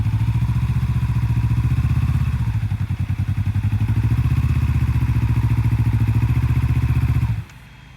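A motorcycle engine runs close and loud with a steady low throbbing idle, dips and recovers, then abruptly cuts out near the end as a learner stalls it while finding the clutch friction zone.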